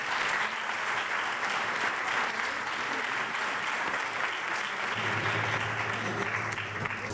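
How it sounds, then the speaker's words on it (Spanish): Applause from a theatre audience at the Teatro Moderno during a music-for-equality concert in Chiclana, steady clapping at moderate level that carries on throughout, with a low hum entering toward the end. "Fuerte aplauso, por favor."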